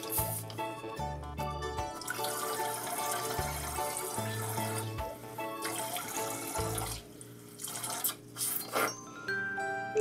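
Water runs from a tap into a small bath toy, a steady gushing pour with splashy bursts and a toy-like musical tune playing over it.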